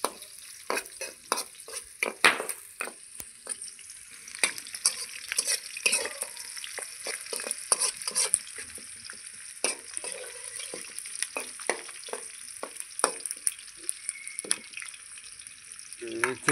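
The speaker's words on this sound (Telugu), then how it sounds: "చికెన్ ఫ్రైకి స్టార్ట్ చేసాం ఫ్రెండ్స్." Chicken fry with village-style spices cooking outdoors at a night campsite, a crackling sizzle with constant sharp pops and stirring scrapes throughout, close and steady, with no talking.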